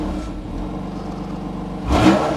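A warm BMW M4 GTS engine starts from a steady idle and swells briefly into a short rise near the end, close and fairly loud, with no talk.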